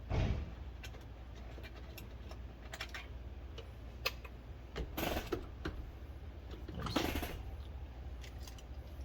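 A nut driver drives screws while custom gauges go into a 1999–2006 GM GMT800 truck, making faint, scattered clicks and brief scraping ticks in a quiet space.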